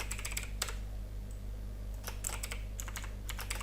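Computer keyboard typing while a website is coded in Python Django, heard as quick bursts of crisp key clicks separated by pauses over a steady low electrical hum, with no talking.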